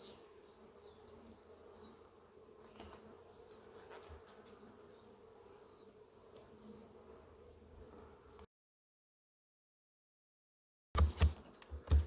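A steady, busy drone of many honeybees buzzing in the lower boxes of a hive, close and low, then cutting to silence before a few brief knocks.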